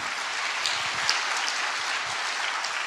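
Audience applause fills a crowd gathering at Gwanghwamun Square, a dense, steady patter of many hands clapping at moderate loudness throughout.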